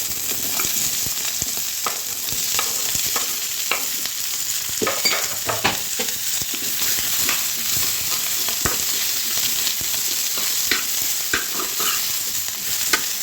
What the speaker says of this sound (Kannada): now we are adding these vegetables.